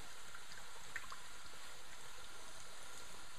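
Duck sauce boils hard in a pan to reduce, giving a steady, dense bubbling hiss at moderate volume with a few faint pops and no pauses.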